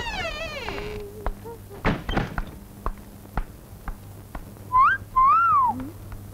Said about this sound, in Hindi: सीटी मैंने ही बजाई है।